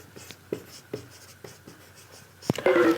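Pen on paper writing figures by hand while working an accounting problem, a series of distinct scratchy strokes and taps spaced through the clip, close, ending in a brief louder scribble.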